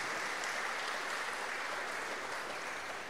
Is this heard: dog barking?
no